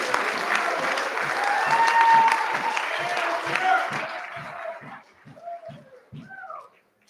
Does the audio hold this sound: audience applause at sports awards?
yes